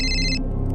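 A phone rings with a brief electronic burst that cuts off partway through, loud and close, in a scene from a crime drama episode.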